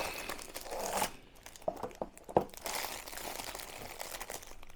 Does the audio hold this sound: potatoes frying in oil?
no